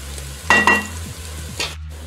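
Garlic and onion fry in a pan, a soft steady sizzle with a few clinks and scrapes of stirring near the start and again toward the end.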